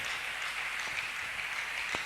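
Church congregation clapping during a worship service, a steady dense wash of applause continuing throughout, fairly far and even in level, with no talking.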